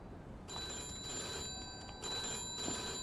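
A telephone rings in the Mafia II video game, a quiet bell ring sounding in repeated bursts over low background noise.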